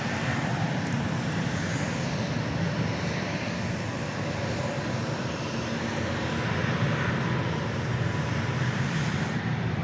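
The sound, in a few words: Spirit Airbus A320neo aircraft passing by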